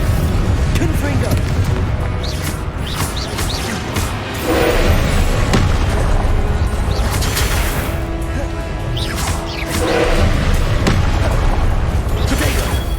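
A Confringo blasting spell explodes during a Hogwarts Legacy battle, heavy booms and crashes rolling over a dense, loud wash of combat noise, with a voice speaking through it.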